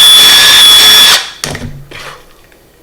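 A power drill reams out a hole in a plastic fry grow-out container, running steadily and loudly for about a second before stopping, followed by brief clunks and handling noises.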